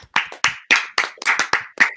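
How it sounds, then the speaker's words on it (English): Sharp, separate hand claps, about eight in two seconds, close and distinct with brief gaps between them, like a small group or a single person clapping in uneven rhythm. "Please clap."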